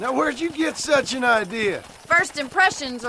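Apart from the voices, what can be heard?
No everyday noise stands out behind the speech.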